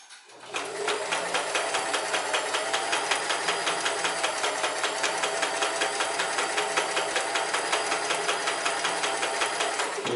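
A Sears Kenmore 158 series sewing machine starts up and runs a steady 3-point zigzag stitch, a close, even, rapid mechanical chatter that continues alone without pause until a quick stop at the end.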